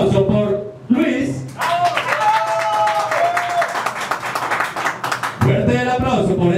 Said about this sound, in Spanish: Fuerte el aplauso por Luis.